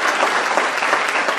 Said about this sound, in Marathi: टाळ्या वाजून स्वागत करायचे.